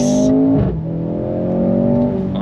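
A 2024 Mercedes-AMG C43 sedan accelerates hard on throttle along a twisty road, its engine note climbing loud and close with a brief dip mid-pull, no talking.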